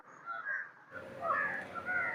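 Crows caw by a tree-lined riverbank, their harsh calls overlapping in a steady chorus that grows louder and busier partway through, with several birds calling at once at moderate distance.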